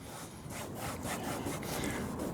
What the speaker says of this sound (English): Yeah, a little rubbing.